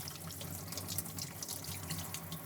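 Tap water runs steadily into a sink as salted eggs are rinsed under the stream, giving a continuous close hiss and splash with no voices.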